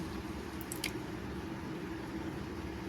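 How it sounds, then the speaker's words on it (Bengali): Smooth batter made from ground poha (flattened rice) is poured into a mixing bowl, making a soft, steady, squelchy flow with one brief wet splat near the start. "আমি ব্যাটারটা ঢেলে দিলাম।"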